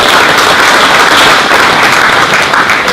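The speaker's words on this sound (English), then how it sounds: "So big round of applause to these guys for keeping the wheels going." Audience at a co-op's 100th annual meeting applauding long-serving employees: dense, steady clapping from a crowd, loud and continuous for the full stretch with no voices over it.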